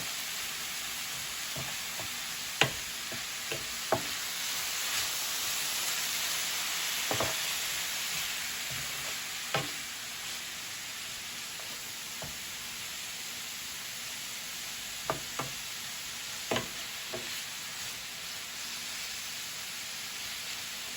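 Cabbage stir fry sizzles in a pan, a steady broadband hiss running throughout, with occasional sharp clicks and scrapes of stirring scattered across it and no voices.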